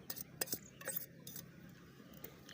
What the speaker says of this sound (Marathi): आता हे सगळं असं मिक्स करून घ्यायचं आहे